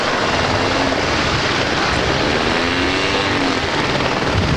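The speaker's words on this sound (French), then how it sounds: "au roulage sur la piste, un très gros appareil" A very large aircraft taxiing on the runway at a 1981 aviation meeting in Yverdon, its engines giving a loud, steady, unbroken roar with no voices over it.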